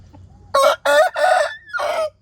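A backyard hen in a small home garden gives a series of loud, close, harmonic squawking calls in four bursts, with no talking.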